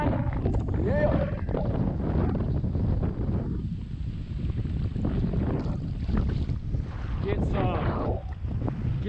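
Strong gusty wind buffets a fishing boat on a very windy day of bass fishing, a constant heavy roar against the microphone with faint voices under it.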